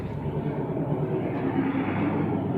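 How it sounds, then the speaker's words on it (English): A freight train rolls past an old train depot, a steady continuous low rumble holding at an even level throughout with no clear breaks. "And there goes a freight train there."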